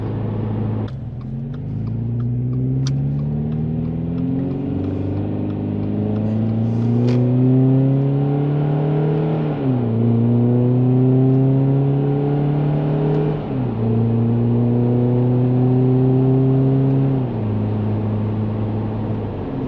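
A car with an aftermarket Nameless exhaust accelerates through repeated gears, its droning exhaust tone climbing and then dropping at each shift. The sound is loud, close and continuous, with no talking.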